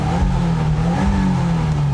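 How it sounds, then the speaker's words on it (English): Subaru WRX tS turbocharged boxer engine idling with its characteristic snarl, a loud, close, steady throbbing burble with a gritty low drone and no pauses. "It has that typical Subaru snarl where it kind of instantly reminds you it's a boxer engine"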